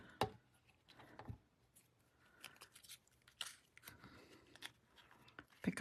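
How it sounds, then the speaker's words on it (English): Paper snips cutting designer paper along an angle, a few quiet, crisp snipping cuts spaced irregularly with a faint rustle of paper between them, close by in a calm room. "And then I just rest my blade right along that angle to cut."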